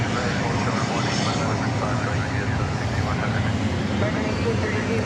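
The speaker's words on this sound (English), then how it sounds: "you see American Flight 2659 arriving from Santa Ana," An American Airlines Boeing 737-800 jet arriving at DFW Airport from Santa Ana rumbles in a steady, moderately loud engine roar, with a voice speaking over it.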